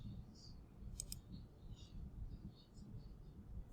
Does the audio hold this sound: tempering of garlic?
no